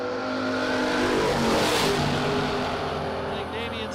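Drag racing cars, including a 1975 Chevy, roar steadily at a strip with a loud, sustained engine drone that swells midway and eases slightly toward the end.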